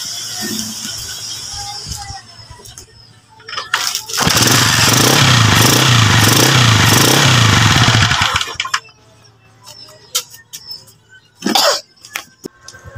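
A Rusi 125 motorcycle with no fuse fitted, started after a rewiring fix: an engine churning loudly for several seconds before cutting off, with clicks, a cough and scattered noises around it.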